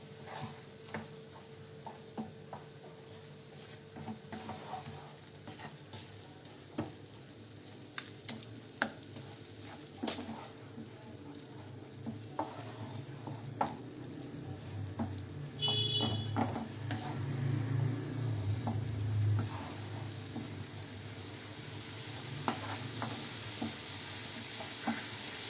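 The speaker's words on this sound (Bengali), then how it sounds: "আমি দুধটাকেও নাড়ছি।" Milk is stirred in a pan while carrot pitha is being made, with soft scraping and faint sizzling bubbles under a low steady background hum. Scattered light clicks and knocks appear throughout, and the stirring grows a little louder toward the end.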